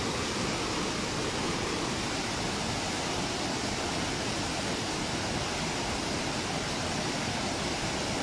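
The swollen Nututún river rushes through rainy season in Palenque, a steady, dense roar of churning water that fills the whole stretch at constant loudness with no pauses.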